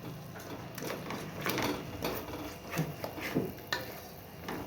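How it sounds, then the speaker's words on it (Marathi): Masala sautéing in a pan over a medium gas flame for spicy Kolhapuri misal, heard as close, irregular scraping and stirring strokes with a soft sizzle underneath, no talking. "आणि मसाला व्यवस्थित त्याच्या परतून घ्यायचा आहे"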